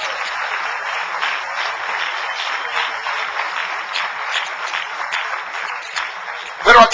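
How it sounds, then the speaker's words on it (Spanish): A church congregation applauds with dense, continuous clapping, fairly loud and even throughout, ending with a brief louder knock. "Démosle un aplauso al Rey bendito"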